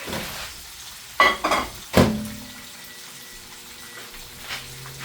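Chicken fries in a pan, sizzling and crackling, with a few sharp clanks of utensils against the pan near the start and a faint steady fizz after.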